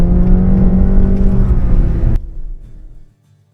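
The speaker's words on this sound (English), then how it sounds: "And that's going to allow for maximum drifting as we're doing right now." A GMC Canyon AT4x pickup drifts in Baja mode with the rear differential locked, its engine roaring loud and close with a rising whine before cutting off abruptly, leaving a low fading rumble and then silence.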